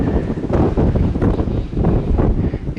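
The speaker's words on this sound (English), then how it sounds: "It's just a little windy up here." Wind gusts across a steep mountain slope in the Wyoming wilderness, buffeting the microphone in loud, rumbling surges that rise and fall over a few seconds.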